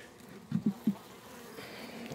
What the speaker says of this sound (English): Alright, there's some bees.